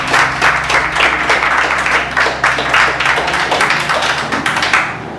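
A church congregation claps together during a worship service, producing a loud, dense, steady rhythm of hand claps that runs throughout, over a low sustained hum.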